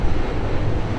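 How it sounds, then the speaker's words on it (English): Gusty wind blows across open ground at a windmill farm in the Mojave Desert, a loud, low, rumbling buffet that stays continuous throughout the short moment. "It's pretty windy though."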